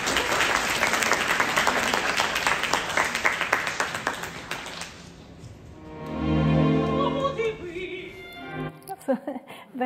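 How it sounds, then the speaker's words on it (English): Audience applause bursts out over an opera recording, dense and sustained for about five seconds before fading, after which orchestral music continues alone. "Unfortunately, the applause interferes here,"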